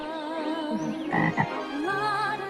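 A toad croaks steadily in a continuous, warbling trill with rising and falling pulses, loud and close, with no talking over it.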